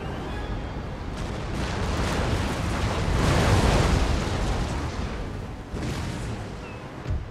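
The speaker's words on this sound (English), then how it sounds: "let's see if this broadside of 23 guns does the trick" A warship's 23-gun broadside in the Empire Total War game: a rolling barrage of heavy cannon booms that merge into a long, rumbling roar, swelling in the middle and tailing off with scattered later blasts.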